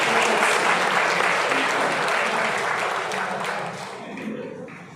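An audience claps steadily throughout a talk on exam preparation and managing emotions, a dense wash of applause from many hands that starts loud and slowly fades, with no voices over it.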